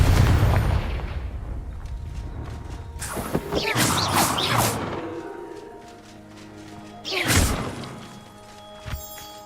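Spell impacts in Hogwarts Legacy, a series of sharp blasts, crackling bursts and heavy thuds in separate clusters, loud and close, with brief voice sounds mixed in among them.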